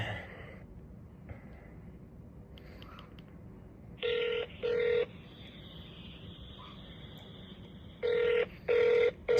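A telephone rings on speakerphone while calling the customs headquarters direct line in North Point, Hong Kong: two pairs of loud ring bursts about four seconds apart, each pair a double ring, over a steady background hiss, with no talk.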